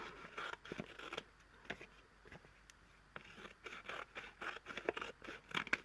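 Scissors snip through fabric for a patchwork card, a quiet run of close, irregular crisp cuts and scraping blade strokes with no voice.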